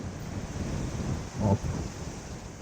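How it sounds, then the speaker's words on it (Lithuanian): Steady rushing wind noise buffets the microphone throughout, with a brief louder gust midway; no voices. "atrodo, kad vėjas pučia iš nugaros"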